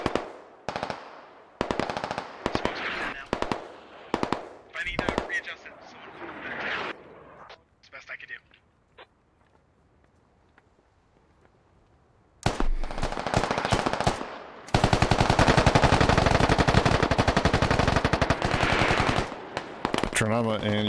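Rapid automatic gunfire bursts in the online shooter SquadOps, loud and close, with a quieter lull in the middle before sustained heavy fire; voices talk over parts of the exchange.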